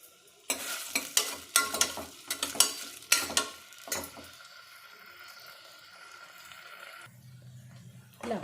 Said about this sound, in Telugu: కొంచెం నూనె వేడెక్కిన తర్వాత ఉల్లిపాయలు, పచ్చిమిర్చి వేసుకోవాలి.